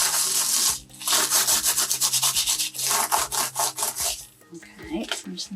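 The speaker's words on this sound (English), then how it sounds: "you have to rub it quite hard" Dried salt being rubbed hard off a watercolour sunflower painting, a close, rhythmic scratchy scrubbing in quick repeated strokes that pauses briefly before a final softer stretch of rubbing.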